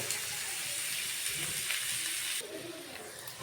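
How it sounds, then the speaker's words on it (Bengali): Oil being added to a pan of chicken and onions hisses and sizzles as a steady bright frying noise, which shifts and quiets after a couple of seconds. "এখানে আমি আরও তেল দিয়ে দিচ্ছি ঠিক মাংসই যতটা তেল লাগবে ততটা পরিমাণে তেল দিয়ে দেব"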